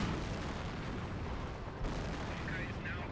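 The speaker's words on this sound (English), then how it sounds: "Greyhound getting hit by some AT gunshots." In a Company of Heroes match, anti-tank gunfire strikes a Greyhound armored car amid a dense battle din of booms and shots, with a commentator talking over it.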